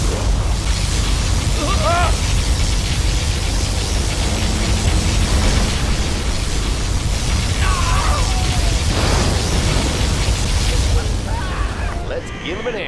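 A video game battle in Command & Conquer Generals Zero Hour brings a sustained roaring blast from a particle cannon, a dense, loud noisy rumble that holds steady for many seconds and fades slightly at the end, with game voices briefly over it.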